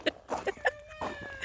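Chickens cluck in short, quick, close bursts over a brief moment on a snowy Mississippi winter day, with faint background noise.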